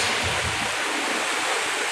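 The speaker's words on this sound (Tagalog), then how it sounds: "Ayan, may agos." A natural spring stream at a campsite in Calumpang, Liliw, Laguna flows steadily, giving a continuous broadband rush of running water with no break and no voices over it.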